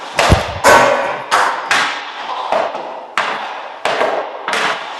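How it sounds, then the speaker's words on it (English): Hockey shots taken against a Bauer Mach Supreme goalie stick, a series of sharp, loud, close thwacks and thuds, about eight hits at irregular intervals, each followed by a brief clatter, no talking. "Let's go see some shots with Cam and the new Bauer Mach Supreme stick"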